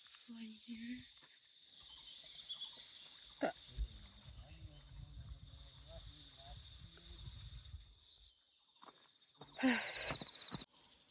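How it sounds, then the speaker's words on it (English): Cicadas in the countryside give a thin, high buzzing drone that swells and fades, partly under people talking nearby and a few scattered outdoor noises. "Hear the sound of the cicadas."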